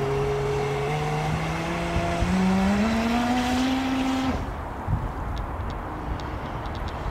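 A small homemade radio-controlled boat with a PVC hull runs nearby, its electric motor giving a rising, whining buzz that climbs in pitch as it speeds up. After a few seconds the whine drops away into a quieter motor hum.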